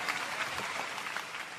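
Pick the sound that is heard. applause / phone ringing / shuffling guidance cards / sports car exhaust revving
applause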